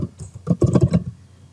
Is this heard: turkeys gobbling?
no